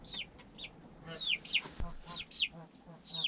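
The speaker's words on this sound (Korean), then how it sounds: "병아리들이 닭장 안에서 내가 먹이 주는 것을 기다리고 있다." Young chicks in a chicken coop waiting to be fed peep in quick, high, sliding chirps, several overlapping at close range against a faint rustling background.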